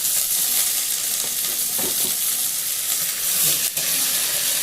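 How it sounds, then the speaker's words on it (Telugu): Amaranth leaves fry with garlic and green chili in a hot pan, giving a loud, continuous sizzling hiss close up, with a couple of brief stirring scrapes and no speech. "ఇది మంచిగా ఫ్రై అవ్వాలి."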